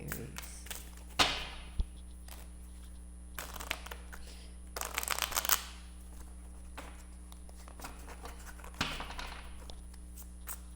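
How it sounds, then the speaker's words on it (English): Tarot cards being shuffled in several bursts of riffling and tapping, close and fairly soft, over a low steady hum. "These do not want to shuffle"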